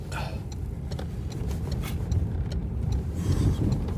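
A car on an icy, snowy road in Bolu drives and turns, its rear sliding on the ice despite snow tyres. The engine rumbles steadily, with light ticks and clicks throughout and no talking.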